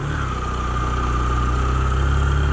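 A motorcycle engine labouring in first gear up a steep rocky mountain track, a loud, steady close drone with a low rumbling throb that holds throughout.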